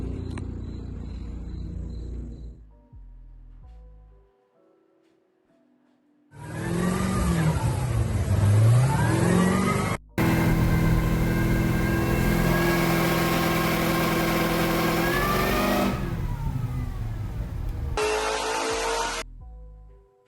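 A Corvette ZR1 on a dyno idles with a low rumble, then revs hard in long, loud sustained pulls with rising and falling engine pitch, separated by brief drops and quiet gaps.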